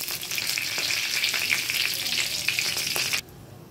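A bay leaf dropped into hot oil with cloves and cinnamon sizzles steadily, a dense close crackle with a few stirring clicks, then it cuts off sharply near the end.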